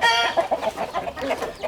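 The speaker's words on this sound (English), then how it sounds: "I got some Somani roosters." Somali roosters and chickens cluck in quick, close bursts, with a faint crowing note mixed in among the busy poultry calls and no voices.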